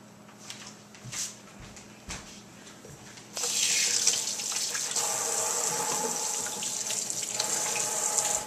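A kitchen sink tap starts running partway through, bringing a loud steady splash and gush of water over a few faint clatters and bumps.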